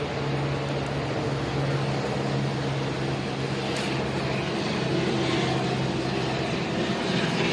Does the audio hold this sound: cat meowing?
no